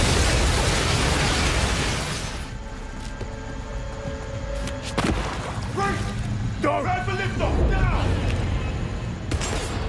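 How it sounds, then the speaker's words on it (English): A loud, heavy explosion in the video game 007 First Light booms at the start and rumbles off, followed by scattered bursts, crackles and debris sounds, with voices briefly audible. "a beefy, meaty explosion"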